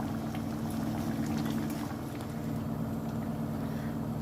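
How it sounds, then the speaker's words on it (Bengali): Bata fish and masoor dal curry bubbles in a pot over a burner, giving a steady, close, continuous simmering rumble with soft bubbling texture and no talk throughout. "এবার তরকারিটা ফুটে উঠেছে"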